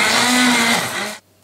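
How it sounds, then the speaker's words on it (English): A hand blender whirs loudly and steadily for about a second while processing cream of broccoli soup, then cuts off abruptly, leaving near silence. "I found the old the hand blender that I used to have"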